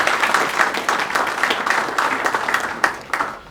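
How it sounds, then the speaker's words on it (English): Hearty audience applause at a commemoration event, a full, continuous roll of clapping with pulsing swells and a few sharper individual claps standing out near the end. "We should give him a round of applause."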